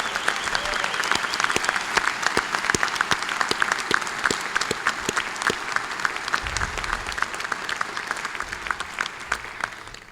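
Sustained applause from an audience at an annual business meeting, welcoming Doak Lambert as the newest board member. Dense, steady clapping fills the whole span, with faint crowd murmur beneath.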